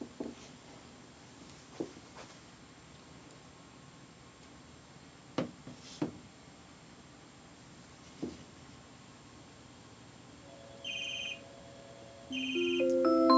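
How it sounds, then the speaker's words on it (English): Home phones ring with an incoming call routed through an Amazon Echo Connect; electronic ringtone bursts start late and grow louder, after scattered faint clicks and taps in a quiet room. "all the phones in the house are ringing"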